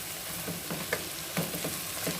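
Chopped tomatoes are stirred in a hot pan for semiya veg biriyani, with a constant close sizzle and a few soft scraping strokes of the spoon, and no speech.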